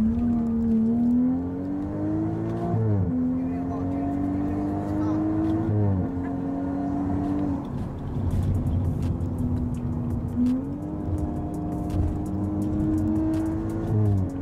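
B58-engined car driving while overheating, its engine note rising in repeated pulls and dropping at each shift, heard from inside at moderate loudness with a talking voice over it.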